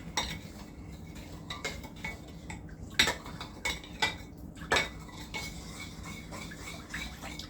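Dark brown sugar being stirred into a sweet potato pudding mix, with a spoon knocking and clinking against the bowl in an irregular run of light taps under a steady low background hum.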